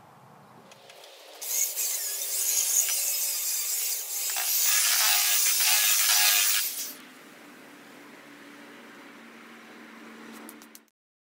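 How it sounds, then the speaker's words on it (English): Sand is rammed into a new flask for an aluminum casting mold, giving about five seconds of loud, dense scraping and rubbing. Quieter, softer shuffling follows, with no talk. "we'll go ahead and ram up a mold in one of these new flasks I made"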